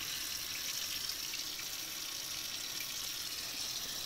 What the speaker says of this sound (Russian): Так, буду смывать раковину и посмотрим на результат.